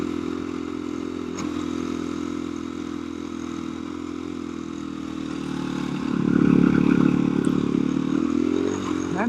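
A KTM 350 dirt bike's engine chugs steadily uphill, a close, continuous mid-pitched drone that swells louder and rougher near the end as the throttle opens.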